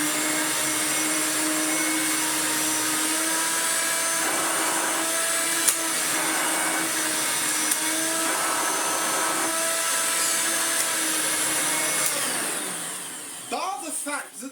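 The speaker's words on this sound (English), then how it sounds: "remember this Hoover Turbomaster Electronic that works very well." A Hoover Turbomaster Electronic upright vacuum cleaner runs steadily and loudly with a whining motor hum, holding constant for about twelve seconds before winding down near the end.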